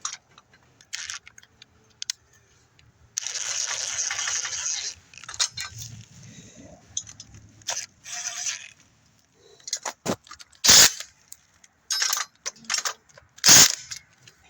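Metallic clicks, taps and brief ratcheting as a socket tightens bolts on a cheap hydraulic motorcycle lift, with a longer scraping rattle early and sharp close clanks toward the end.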